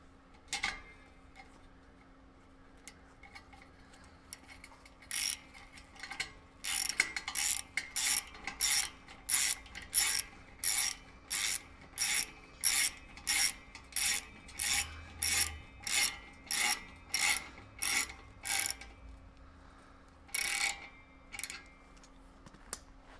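A ratchet wrench snugs down the 13mm exhaust tip bolts on a 2020 Dodge Charger Hellcat Widebody, a long series of crisp clicking strokes in a steady rhythm, close and clear with short pauses between sets.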